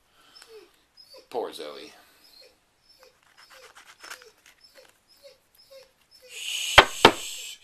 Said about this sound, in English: My dog has seizures, and she just came out of a round of seizures, so after that, she's very whiny.